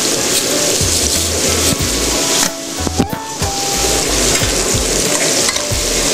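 Rice stirred and frying in a hot pan alongside chopped hearts of palm, a steady loud sizzle with scraping stir strokes and a brief lull midway, no talking.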